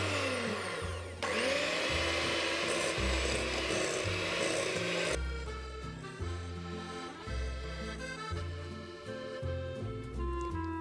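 An electric whisk beats room-temperature butter in a bowl for a chocolate macaron filling. The motor whirs loudly and the beaters rattle and scrape against the bowl in steady pulses, and the tone shifts partway through.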